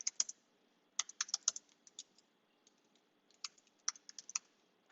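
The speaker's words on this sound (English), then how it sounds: "I'm going to type thanks for playing" Someone types on a computer keyboard in quick, light clusters of key clicks separated by short pauses, close and quiet, with no speech.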